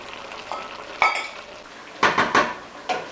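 Bolognese meat ragu tossed in a pot, with several sharp clanks and scrapes of a utensil against the metal, the main bursts near the start and middle and a last one after a short pause, with no voices.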